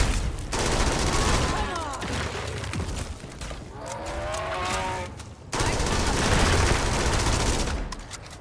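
A rapid-firing gun in a Black Ops 7 video game blasts in dense, loud bursts, with a short pause between volleys and synthetic tonal effects sweeping through the middle of the firing.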